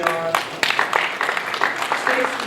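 An audience at a presentation for Carver Stadium breaks into steady, dense applause with many hands clapping at once, fairly loud and close, under a voice speaking over it.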